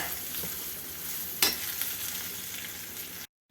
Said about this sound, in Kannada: ಈಗ ಇದನ್ನು ಚೆನ್ನಾಗಿ ಮಿಕ್ಸ್ ಮಾಡಿಕೊಂಡು ಬಾಡಿಸ್ಕೊಳ್ಳೋಣ ನೀರೇನು ಹಾಕೋದು ಬೇಡ ಇದರಲ್ಲೇ ಸಾಫ್ಟಾಗಿ ಕುಕ್ ಆಗಬೇಕು ಹೀರೆಕಾಯಿ